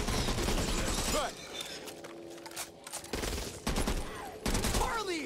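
Gunfire in the zombie shooter Back 4 Blood: bursts of rapid game shots fill the opening second and return in short loud volleys near the end, with a quieter stretch between and someone talking over parts of it.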